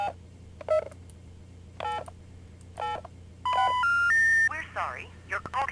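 A string of DTMF dialing tones plays on a phone in the video game AMBER: Journeys Beyond. Short keypress beeps come in clusters, then a louder rising set of tones follows before a warbling electronic signal, over a low steady hum.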